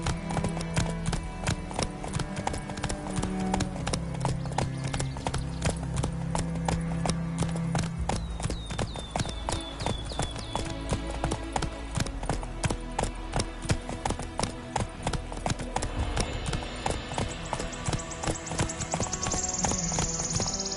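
Roach, a horse in The Witcher 3, gallops with steady, loud clip-clop hoofbeats throughout, a brief whinny near the end and faint background game ambience.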